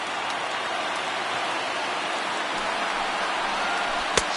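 A baseball stadium crowd of over 39,000 on their feet, cheering at a Rays vs Athletics game: a dense, steady roar of crowd noise throughout, with a sharp pop near the end.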